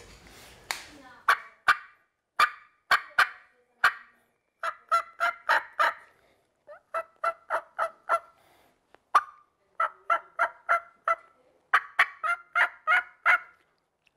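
A hunter's turkey call imitates turkey sounds while hunting in Georgia. It makes soft, raspy yelps in quick rolling runs of four or five notes, repeated with short pauses, close and fairly quiet.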